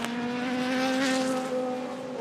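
FIA WEC endurance race cars braking through the first chicane give a loud, sustained engine drone with steady harmonic tones and a slight pitch dip, close and continuous, with no talking.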